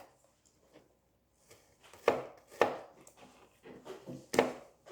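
Knife chopping food on a board for tacos, a few sharp, separate cuts spaced irregularly, close and fairly quiet, with no talk.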